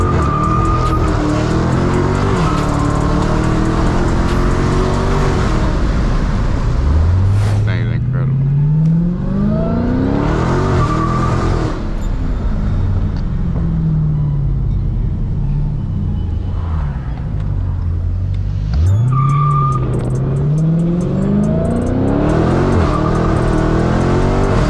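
A Dodge Hellcat SRT is driven hard, the loud supercharged engine repeatedly revving and climbing through gears, with tire noise and deep rumble throughout and talk heard over it.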